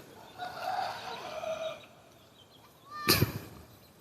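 Desi chickens on a small poultry farm cluck and call briefly, followed by a sharp louder squawk or burst near the end, with quiet farm background between.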